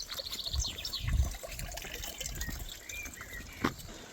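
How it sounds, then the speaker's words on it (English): A muddied river running high after rain in Devon, its water flowing and trickling steadily at low volume with a few louder gurgling surges, alone with no voices. "Again I met with the river, muddied after the rains"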